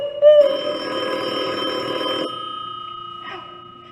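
A telephone bell rings loudly in one long trilling burst in an old radio drama, then stops, leaving a faint hum and a brief soft rustle.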